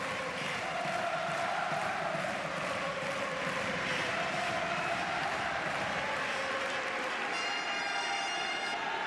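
Large tennis crowd at Roland-Garros in Paris roaring and cheering continuously during a night men's first-round match, a dense sustained wall of applause and shouts with rhythmic pulsing, loud and close throughout.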